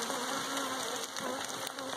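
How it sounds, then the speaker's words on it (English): Honey bees buzz steadily in a heavy double-deep hive box, a dense continuous drone with no talk over it. "Check out those bees underneath."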